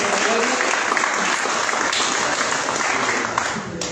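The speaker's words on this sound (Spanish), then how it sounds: "Un aplauso para Gloria." A crowd at a commemoration of the 1973 general strike applauds Gloria with steady, dense clapping that stays loud and even throughout, easing slightly at the very end.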